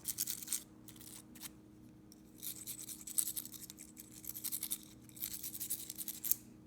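A small brush scrubs around the inside of a Baratza Encore coffee grinder, clearing out coffee grounds with repeated bursts of dry bristly scratching and brief pauses between strokes.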